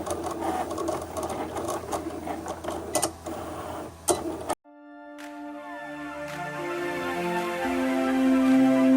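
A Cricut Explore Air 2 cutting vinyl gives a steady mechanical whir with stepping, gear-like tones that shift in pitch and grow gradually louder, heard close up after an abrupt change from a denser, noisier passage.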